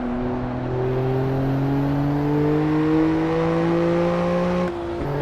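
Race car engine in the Assetto Corsa Evo sim racing game, a loud, steady drone whose pitch climbs gradually as it accelerates, heard alone and cutting off abruptly near the end as if shifting gear.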